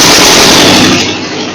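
A Ferguson TO35 tractor engine running with throttle opened, a loud rapid chugging burst that fades away over about a second and a half.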